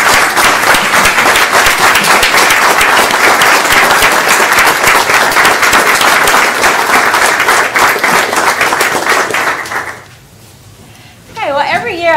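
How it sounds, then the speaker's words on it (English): Loud, sustained applause from an audience at a school district board of trustees meeting, dense clapping for about ten seconds before cutting off into near silence, followed by a voice resuming. "let's do that one more time for another big round of applause"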